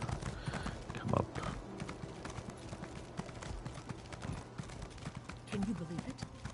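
Horse hooves clip-clop steadily in Elder Scrolls Online, sounding as moderate rhythmic footfalls under continuous talking.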